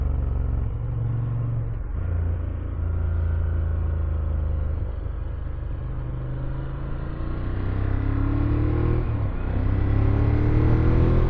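A Ducati Monster 1200S motorcycle fitted with an oversized tire cruises along a road, its engine a steady low rumble with gentle rises and falls in revs, wind noise in the background, and no talk.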